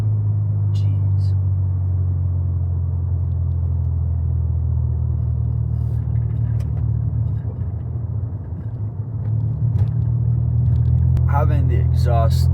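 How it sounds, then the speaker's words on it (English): A car with a modified exhaust drones with a loud, low, steady rumble, heard up close from inside as it drives, with a brief dip midway and a few faint clicks. "Dude, my car is freaking loud this morning."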